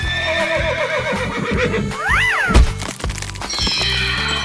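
A horse in a 3D animal sliding video game gives one clear, rising-and-falling whinny midway through, loud and close over steady, busy game music, with other short cartoonish effects around it.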